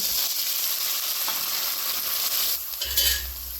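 Water poured onto spices frying in a pan hisses into a loud, steady sizzle with soft stirring scrapes, the sizzle flaring again briefly near the end.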